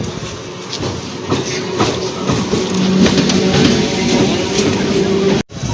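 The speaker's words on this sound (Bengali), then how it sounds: "এইটা দত্তপুকুর টু শিয়ালদা লোকাল চলে এসছে" A Dattapukur to Sealdah local train rolls in loud and close, a heavy rumble with rhythmic clickety-clack of the wheels building and holding, then cut off abruptly near the end.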